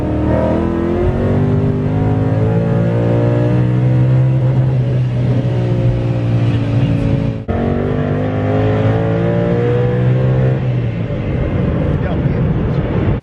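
A rare Ford Mustang Boss 302 V8 is held at full throttle on a dyno with clutch dumped and wheels spinning, a loud sustained rising roar with a brief dip mid-way, then continuing strong; voices are faintly present beneath.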